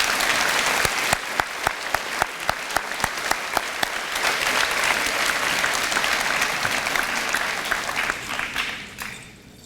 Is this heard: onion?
no